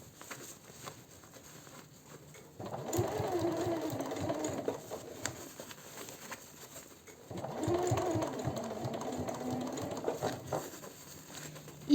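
A sewing machine stitches denim for a gym bag in two sustained runs of rapid, whirring needle strokes, each lasting several seconds, separated by quieter pauses with low background hum.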